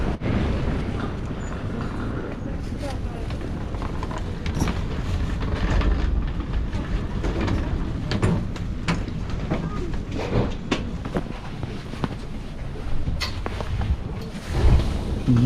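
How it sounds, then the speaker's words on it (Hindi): Aeroexpress airport train running toward Domodedovo, a steady rumbling rail ride with continuous low rolling noise and occasional clacks, heard from inside a largely empty carriage with someone talking over it. "ये है जी एरो एक्सप्रेस।"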